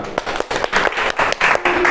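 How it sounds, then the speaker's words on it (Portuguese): An audience applauds in a short, uneven burst of clapping, close and moderately loud, with scattered claps that rise and dip over two seconds. "Palmas para Fran."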